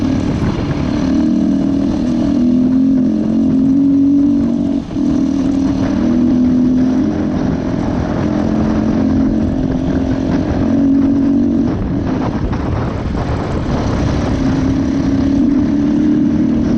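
A GPX 450 dual-sport motorcycle, running poorly, ridden down a long dusty gravel road: a continuous loud engine drone with steady wind rush, close to the rider and unbroken.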